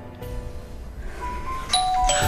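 An apartment doorbell chimes near the end with a short, bright electronic ding-dong over a low room hum. No one speaks.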